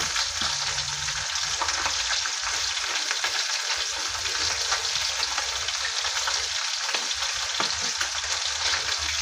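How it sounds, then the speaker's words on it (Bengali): Small carp fry in hot oil in a pan with a continuous bright sizzle and crackle, close and steady, with a few faint stirring sounds and no voices. "হালকা মাছগুলো ভেজে নেব"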